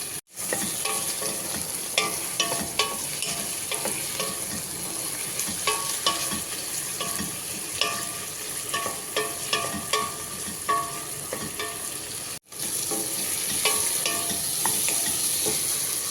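Tomatoes and onions sizzle in a pan while a spoon stirs and scrapes in quick irregular strokes, with one brief pause near the end before the frying resumes.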